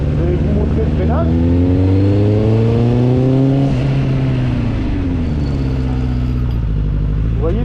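A Suzuki Bandit 600 motorcycle brakes hard on the road with its engine note sliding down in pitch, the loud, close sound settling into a steady rumble as the front tyre locks.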